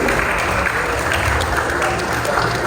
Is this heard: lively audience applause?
yes